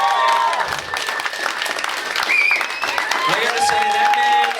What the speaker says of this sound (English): can we just get one more round of applause for Jonathan Duffy tonight?